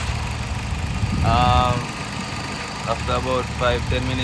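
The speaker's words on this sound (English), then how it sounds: "got it jump started and it's now running on its own power" A 2013 Dodge Avenger engine idles with a steady low rumble after a jump start, its running sound continuing beneath someone talking close by.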